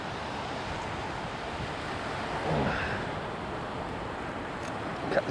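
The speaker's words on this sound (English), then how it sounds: "That's not the fish alive, it's just the wind." Wind blows steadily along the Bristol Channel coast, a continuous broad rushing roar with surf-like washing, constant and close to the microphone, swelling slightly midway, with a faint knock near the end.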